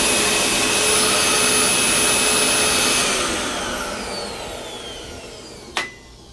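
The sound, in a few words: old vacuum cleaner running without a functioning belt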